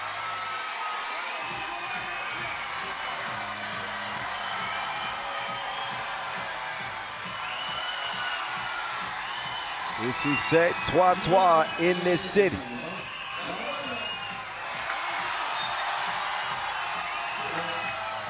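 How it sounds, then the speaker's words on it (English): A packed arena crowd at the 3x3 basketball finals in Marseille keeps up a steady roar under a commentator's talk, swelling into a louder burst of cheering partway through before settling back. "It is loud here in Marseille. The crowd has been lit from the start."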